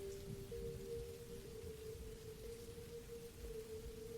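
Steady rain falls without a break on a cold, windy November night, a dense, even hiss with a faint sustained hum underneath and no voices.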